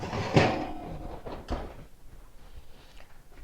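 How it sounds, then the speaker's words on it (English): An oven door is opened to lift out a baked ham, with a solid clunk followed by a couple of softer knocks and a quiet kitchen background. "now it's time to take the ham out of the oven."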